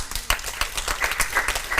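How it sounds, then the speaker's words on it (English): Audience clapping for a panel speaker being introduced at a demographics conference held at a university, a steady patter of many hands filling the room with no voices over it. "you should give them a big round of applause"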